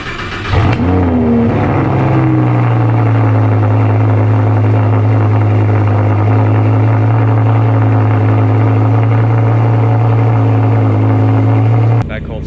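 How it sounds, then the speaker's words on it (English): A 2015 Audi R8 V10 with a custom exhaust doing a cold start: a sharp rev flare at ignition, then a loud, steady high idle drone held close for about eleven seconds before cutting off. "just take a listen to this cold start from this morning"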